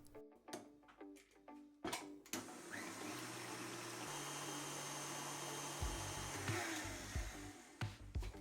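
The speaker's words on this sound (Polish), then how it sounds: "Do śmietanki dodajemy cukier puder, fix i ubijamy." Electric hand mixer whipping cream with powdered sugar and a cream stabilizer for a cherry poppy-seed cake, a steady loud motor whir running almost throughout after a few clattering knocks at the start, with pitch shifts as the beaters move.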